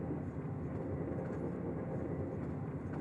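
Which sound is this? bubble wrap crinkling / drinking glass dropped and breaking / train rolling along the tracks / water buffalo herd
train rolling along the tracks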